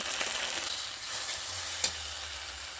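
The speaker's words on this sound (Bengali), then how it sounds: "হালকা করে ঢ্যাঁড়সগুলোকে আমি ভেজে নিচ্ছি।" Okra seasoned with salt, chili powder and turmeric fries in a pan with a constant, close hissing sizzle, broken by a faint stir near the end.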